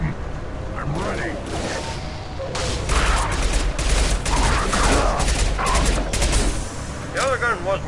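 Gunfire in a Mass Effect 2 firefight, with rapid bursts of shots, whooshes and mechanical clatter, loud and dense through the middle, thinning toward the end.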